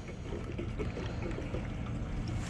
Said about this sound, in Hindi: इसमें हम एग्जैक्ट 1 लीटर पेट्रोल ऐड करेंगे